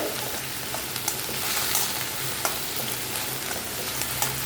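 Coriander leaves sizzle and crackle steadily in a hot pan, with occasional soft pops and stirring sounds, close and fairly quiet.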